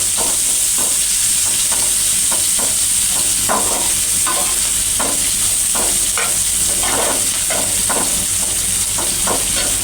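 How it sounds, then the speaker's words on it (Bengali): Potatoes, onions and chilies frying in a pan give a continuous loud sizzle, broken by regular scraping stirs of a spatula close by throughout, with no talking. "এই পাশে আলু ভাজা আছে আর এই পাশে তো পেঁয়াজ মরিচ ভাজা আছে।"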